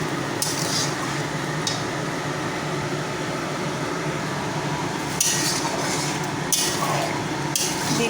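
A spoon stirs and scrapes through chilli paneer gravy in a pan, with a few sharp metallic clinks standing out over a steady background hum and low cooking noise.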